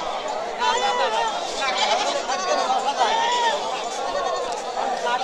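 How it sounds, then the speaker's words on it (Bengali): At the Chatmohar rail bazar market for native breed goats, several goats bleat repeatedly amid dense crowd chatter, their quavering calls overlapping close by while someone speaks throughout. "সম্পূর্ণ দেশি জাতের ছাগল,"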